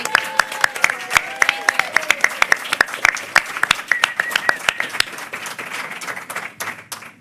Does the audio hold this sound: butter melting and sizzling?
no